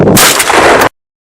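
A single loud shotgun blast from a Fetter cartridge during pre-season hunting ammunition testing, a sharp close-up report with a short ringing tail that cuts off abruptly.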